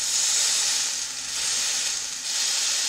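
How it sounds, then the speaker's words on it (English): Thin smash burger patties fry in a cast iron pan with a steady, close, loud sizzle that swells and dips slightly over a few seconds. "these don't take long to cook or fry because they are thin"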